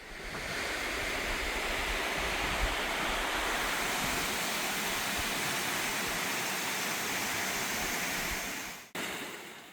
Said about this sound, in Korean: 가파른 절벽길을 통과하면 폭포들과 용서들이 이어진 장관이 펼쳐집니다.